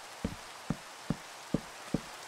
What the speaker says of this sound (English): Oh, not the rain.